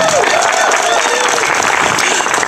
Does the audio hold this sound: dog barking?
no